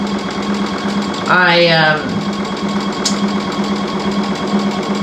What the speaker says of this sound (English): I'm now just sewing the last bits of the edges down